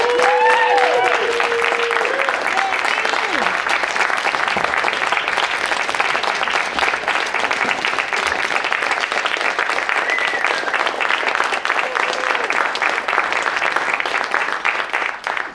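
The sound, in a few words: audience applause at a conference panel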